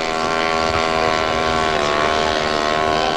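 A motorized ultralight aircraft from a 1981 GAM Yverdon meeting drones steadily with a loud, buzzing propeller engine whine at constant power throughout, close and unbroken, with no speech.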